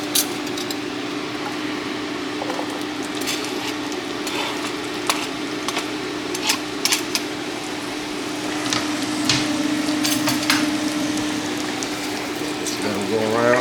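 Onions fry in melted butter in a pan for gravy with a steady close crackle, light clicks and spatters running through it, along with stirring noises and a brief scrape near the end.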